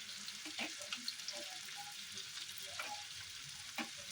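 Chopped garlic and green chilli hitting hot oil in a pan alongside capsicum, giving a soft, steady sizzle with scattered pops and light stirring scrapes, close and fairly quiet, with no talking.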